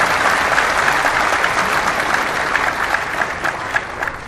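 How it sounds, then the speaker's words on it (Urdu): A large audience claps steadily throughout a religious talk, a dense continuous wash of applause that stays loud, with scattered sharper claps near the end. "یہ تو دکھ والی بات پہ تم نے تالیاں بجائی ہیں۔"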